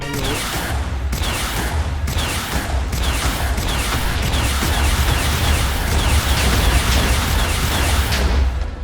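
Minecraft explosions boom in a rapid, dense barrage of loud blasts that roll on continuously for about nine seconds, with no talk over them.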